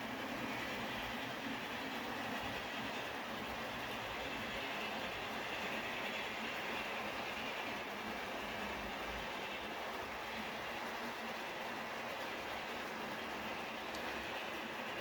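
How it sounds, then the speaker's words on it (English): A model ore train of Athearn ore jennies runs on a layout, giving a faint continuous rolling rumble with light wheel clatter throughout. "The ore train here, this is all Athearn"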